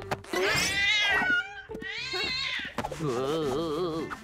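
A cartoon cat meows loudly in several drawn-out, whiny cries in a Smurfs episode, the calls rising and wavering with a rough, caterwauling edge, close and clear with no talk over them.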